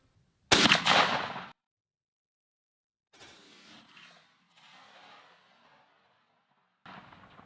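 A single loud shotgun blast from a Girsan MC312 fitted with a Muller H20 choke, fired while patterning; a sharp close report with a short decay, followed by quiet outdoor noise and faint rustling.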